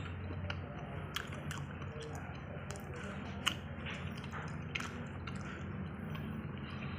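Soft, wet chewing of fresh, cold jackfruit (langka), close and quiet, with faint squishes and a few small clicks over a low steady background hum.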